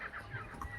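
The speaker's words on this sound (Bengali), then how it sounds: "কেমন মুরগিরা ঝগড়া করছে দেখো" Hens cluck in quick, sharp bursts as they squabble, a few short agitated calls close at hand over faint background noise.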